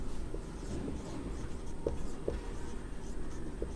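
Marker or chalk writing on a board during a maths lesson, soft scratchy strokes with a few sharper taps, faint and close against low room noise.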